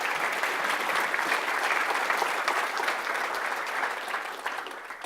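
An audience at a BCC pledge event gives a steady, sustained round of applause, dense even clapping that holds throughout and tapers slightly at the end, with no talk over it.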